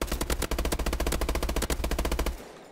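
Rapid automatic gunfire from Call of Duty Advanced Warfare, a loud continuous burst of evenly spaced shots lasting over two seconds before cutting off abruptly.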